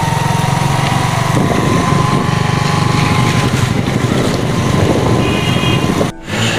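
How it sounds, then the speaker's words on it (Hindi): A motorcycle engine drones steadily and close while riding on a rainy day through old Lucknow, a continuous buzzing run mixed with road and rain hiss, dipping briefly just before the end, with no voices. "बाइक चल रही है।"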